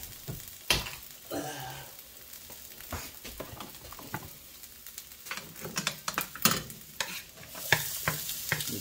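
Onions fry in a hot pot for a cheese and sausage hoagie, a lively close sizzle broken by scraping stirs and sharp spatters, with no talking.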